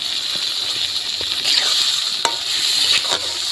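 Spice paste of cumin, ginger, green chilli and turmeric being stir-fried in a pan with potatoes for a koi fish dish, a bright close sizzle broken by scraping stirs and occasional clinks.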